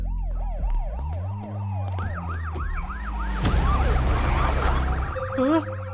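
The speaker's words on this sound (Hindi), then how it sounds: "एम्बुलेंस को यहाँ पे किसने बुलाया?" An ambulance siren wails loud and close in a steady rising-and-falling cycle, with traffic rumble underneath and a second siren pattern joining near the end.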